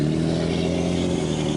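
A Chevy Silverado pickup with a transmission that is cooling poorly sets off, its engine giving a steady, fairly loud drone with a low hum throughout. No one talks.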